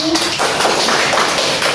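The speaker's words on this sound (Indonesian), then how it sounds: "Tepuk tangan untuk Mbak Rini" Scattered clapping from a small classroom group, a short burst of fairly close hand claps with a faint voice briefly at the start.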